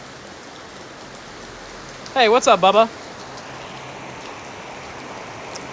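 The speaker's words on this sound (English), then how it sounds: "Because there's way less rain coming in on that spot." Steady rain falls outdoors as a constant broadband patter throughout, with someone briefly talking over it in the middle.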